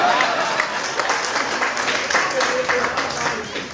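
Audience applause at a Hindi kavi sammelan poetry reading, a dense steady wash of clapping from a crowd, loud and continuous throughout.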